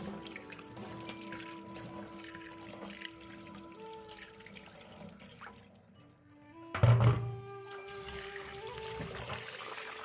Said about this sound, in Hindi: अब मैं चावल और मूंग दाल को अच्छे से धो लेती हूँ।